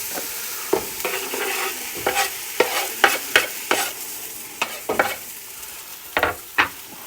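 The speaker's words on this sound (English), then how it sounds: "that is a beautiful sizzle" Food sizzling and being stirred in a frying pan, with a soft continuous hiss broken by repeated sharp scraping stir strokes, close and moderately quiet.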